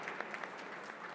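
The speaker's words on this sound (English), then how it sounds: "Let's give an applause and thanks to the builders." An audience claps for the builders at a data center topping-out ceremony, a brief, soft and steady patter of applause heard from some distance.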